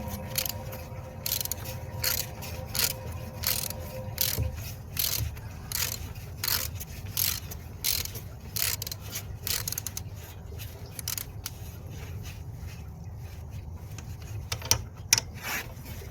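Ratcheting, scraping tool clicks come in a quick irregular series while a part is tightened on a Kawasaki J125 motorcycle during an oil and filter service, close and fairly steady with a louder clack near the end.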